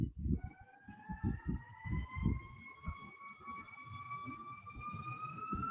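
A passing airplane gives a faint, steady rising whine, much like a distant police siren, held for several seconds over soft low thumps early on.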